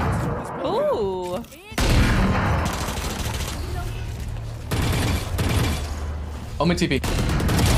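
Gunfire on the Pearl map in the Valorant video game, loud bursts of shots with a chime-like effect, heard alongside players speaking.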